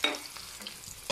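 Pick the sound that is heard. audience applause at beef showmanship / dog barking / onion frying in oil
onion frying in oil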